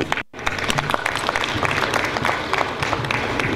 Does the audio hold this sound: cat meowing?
no